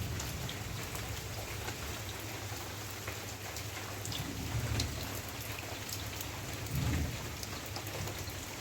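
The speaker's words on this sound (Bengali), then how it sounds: "একদম অন্ধকার করে আছে তার মধ্যে আবার গুরুম গরম করে আকাশটাও ডাকছে" Heavy rain pours steadily on surfaces under a dark sky, a dense continuous hiss of drops, with low rumbles of thunder swelling faintly in the background a couple of times.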